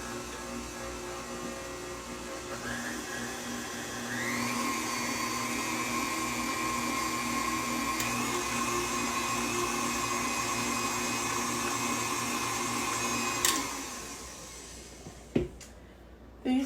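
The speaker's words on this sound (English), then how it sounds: "These mixers are notorious for not getting everything down and getting it mixed together." Electric stand mixer whirring steadily as it beats honey bun cake batter, a continuous motor drone with a pitch rise near four seconds, then a clunk and the motor cutting off near the end.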